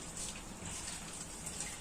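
Water is poured off cooked spicy Korean-style instant noodles, a steady gushing splash that runs continuously at close range.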